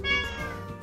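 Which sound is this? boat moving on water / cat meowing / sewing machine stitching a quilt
cat meowing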